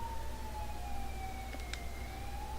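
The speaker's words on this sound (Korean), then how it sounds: "요란하지만 지금은 든든하게 느껴지는 사이렌 소리가 이쪽을 향해 오고 있었다" A wailing emergency siren sounds from a distance, its steady sweeping tone heard faintly through a low background rumble, with a couple of brief clicks partway through.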